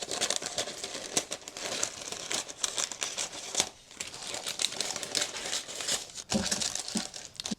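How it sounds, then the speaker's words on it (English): Scissors snip away the extra flaps of parchment paper lining a baking pan, with close, steady crinkling and crisp rustling over several seconds and short cuts scattered throughout. "These extraneous flaps, you can just trim those off with your scissors."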